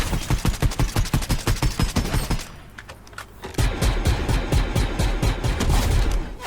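Rapid automatic gunfire from the Havoc suppressed weapon in Fortnite, loud close bursts with a brief pause midway before another sustained volley of shots.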